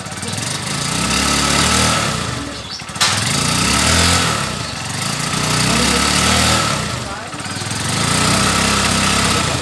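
Stock Supremo 150 motorcycle engine idling and revving with a stumbling misfire, loud and close, its rhythm repeatedly faltering and dipping between uneven bursts.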